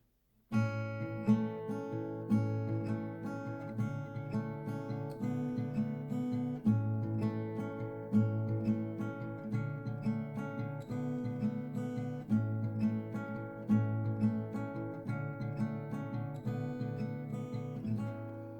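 A steady acoustic guitar fingerpicking pattern, alternating bass notes and plucked treble strings in an even, repeating rhythm, played alone and close.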